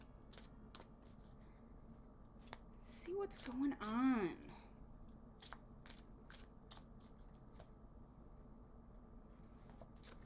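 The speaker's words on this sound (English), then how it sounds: "let's give it a quick shuffle" A Witch's Tarot deck gets a quick shuffle, a short burst of soft riffling card flutters rising briefly amid quiet room noise, with a person talking before and after.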